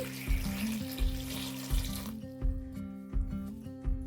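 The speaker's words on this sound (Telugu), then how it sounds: "ఇప్పుడు ఇందులోకి వాటర్ వేసుకుందామండి" Water pours into a pot of tamarind and ground coriander with spices in a steady rush for about two seconds, then stops, leaving a soft rhythmic thumping pulse in the background.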